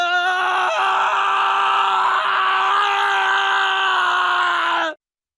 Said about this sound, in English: It was heart and soul to that scream.